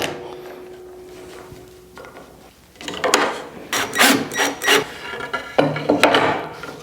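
A screw is turned by hand into the slot of a wooden canvas stretcher bar, a quiet start followed by close, rhythmic creaking and rasping wood-on-metal grinding strokes.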